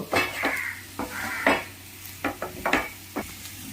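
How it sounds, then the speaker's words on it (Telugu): A spoon scrapes and clinks repeatedly against a pan while chicken masala dosa filling is stirred, the irregular metallic taps close and moderately loud over a faint sizzle. "ఇలా కలుపుతూనే ఉండాలండి ఆపకూడదు"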